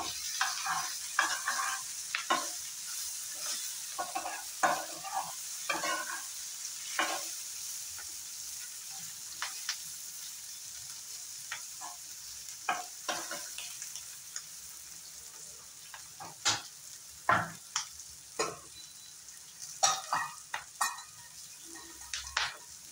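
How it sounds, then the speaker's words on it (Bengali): Green chilli and ginger frying in a pan for paneer fried rice: a steady soft sizzle with frequent sharp clinks and scrapes of a spatula stirring, growing busier toward the end, with no talking. "আর কাঁচা লঙ্কাটা। আবার একটু সময় ফ্রাই করে নেব।"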